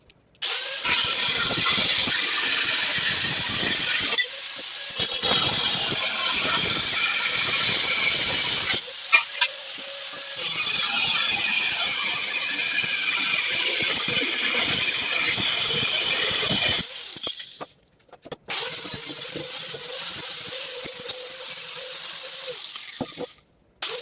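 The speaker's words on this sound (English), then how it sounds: "So I'm gonna get that cut out now" Power tool cutting out an old body panel on a 1965 Ford Mustang, a loud continuous whine in several long bursts separated by brief pauses, close up with no talking.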